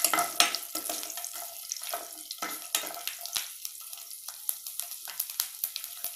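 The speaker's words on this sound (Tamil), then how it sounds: "பூண்டு போட்டு நல்லா மிக்ஸ் பண்ணிவிடுங்க" Garlic cloves sizzle in hot oil with fenugreek seeds for Chettinad vathal puli kulambu, while a spoon scrapes and stirs the pan in an irregular run of close clicks and scrapes over a steady frying hiss.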